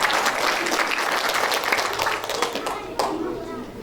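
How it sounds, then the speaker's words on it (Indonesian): Crowd applauding at an inauguration ceremony of a regional community association in Bengkulu, many hands clapping densely at first, then thinning and fading toward the end, with faint voices mixed in. "Tepuk tangan."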